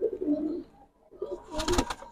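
Flying pigeons kept for sale coo in low, rolling phrases nearby, a quiet stretch falling between two bursts, with a louder, brighter flutter or clatter at the end.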